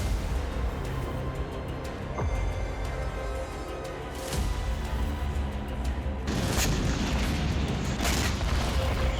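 Explosions from attacks in the Gaza Strip, heavy dull booms rolling over a continuous rumbling wartime background, with a strong blast near the middle and another burst of louder blasts toward the end.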